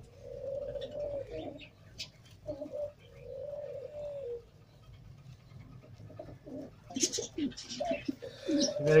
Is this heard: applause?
no